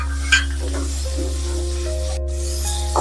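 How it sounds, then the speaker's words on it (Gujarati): Tomato puree being stirred into masala over a medium gas flame, a soft close sizzle with scraping and light pan knocks. A steady low hum runs underneath and a few faint tonal beeps are heard. "ત્યારબાદ તેમાં ટમેટાની પ્યોરી નાખી અને તેને એકદમ સારી રીતે હલાવી લેવું"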